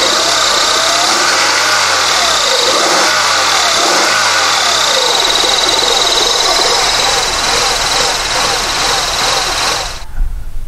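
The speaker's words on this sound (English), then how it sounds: "Now, when I rev this up, that volt reading should change." A 1999 Honda Accord engine is revved and held at high revs during MAP sensor troubleshooting, a loud, steady mechanical drone with rising pitch sweeps early on, running close up for about ten seconds before cutting off abruptly.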